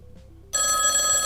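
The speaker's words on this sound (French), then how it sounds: "Oula, téléphone qui sonne." A telephone rings in the DinoGenics dinosaur park game, a loud, bright electronic bell tone that cuts in suddenly after a quiet stretch and rings on steadily.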